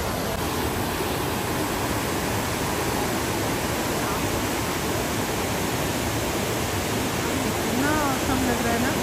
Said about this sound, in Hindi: यहाँ रास्ते में मुझे एक वाटरफॉल मिला है